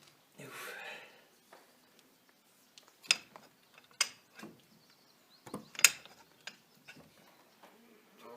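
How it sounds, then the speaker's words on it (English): A breaker bar and socket loosen the 15 mm brake caliper bolts on a 2007 Chevy Uplander, producing scattered metallic clicks and clunks with a few sharp ratchet snaps, quiet and close, without speech. "I'm using a breaker bar in my big sockets to get these brake bolts out to get the caliper"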